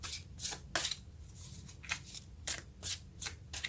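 Tarot cards being shuffled for a reading: a series of crisp riffling bursts in a steady, slightly uneven rhythm, close and fairly quiet, with no voice over them.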